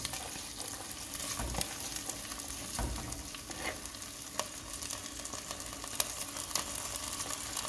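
Washed rice and mung dal frying in a pot for bhuna khichuri, a continuous close sizzle with repeated scraping strokes of a spoon stirring throughout.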